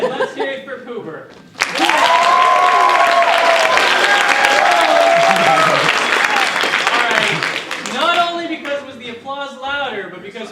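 Orpheum theatre crowd bursts into loud, sustained applause and cheering for Poober during a comedy spelling-bee routine, beginning abruptly after brief talk and easing off as a performer starts speaking again over the tail.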